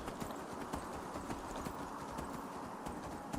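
Donkey hooves clip-clop steadily at a walking pace in the fantasy video game Enderal, a Skyrim total conversion, with a continuous rhythmic patter close up over a hissy ambient background.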